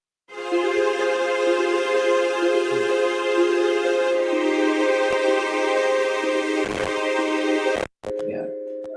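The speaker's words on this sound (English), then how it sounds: "So these are actual string sounds" Sampled string ensemble played in Native Instruments Kontakt, arranged as sustained layered chords that hold steady and loud, with a brief dropout near the end before the strings resume.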